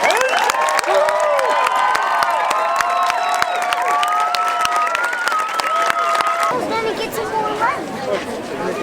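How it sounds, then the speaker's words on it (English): An audience breaks into sustained applause and cheering, dense clapping under shouted voices and crowd chatter, steady and loud before thinning toward the end. "Let's show them how we feel about them with a round of heartfelt applause."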